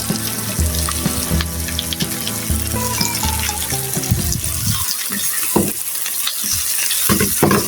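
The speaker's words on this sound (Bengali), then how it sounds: "এই পেঁয়াজ সহকারে কিন্তু করলাগুলি আমি এখন সুন্দর করে ভেজে নিব" Bitter gourd frying with onions in a pan, a close steady sizzle with stirring for the first half, then thinning into scattered clinks and scrapes toward the end, no voices.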